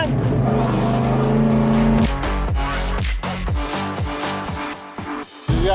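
A vehicle on the gas revs and accelerates, loud and close with tire noise, its engine note shifting and cutting in and out as the clutch and handbrake are worked; a voice speaks briefly over it.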